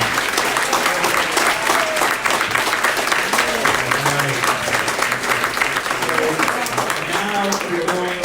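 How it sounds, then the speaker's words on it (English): Members at a local Democratic Party committee monthly meeting give themselves a big round of applause, loud continuous clapping with a few voices and scattered cheers mixed in throughout. "Give yourselves a big round of applause"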